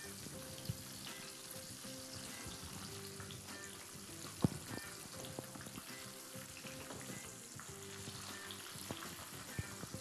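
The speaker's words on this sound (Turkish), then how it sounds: "güzelce bir şekilde şöyle kızartıyoruz" Continuous dense sizzle of onion rings frying in hot oil, with occasional light clinks of utensils; no talking.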